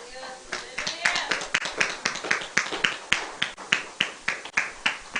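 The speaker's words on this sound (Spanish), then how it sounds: "Denle fuerte esa ofrenda de palmas al Señor" Church congregation claps hands as an offering of praise, sharp, distinct claps in a steady rhythmic pulse, fairly close, with faint voices underneath.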